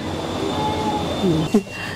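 A metro train pulls into a station platform where passengers wait for the doors to open. Rolling rumble gives way to a brief wheel and brake squeal near the end, with faint voices in the background.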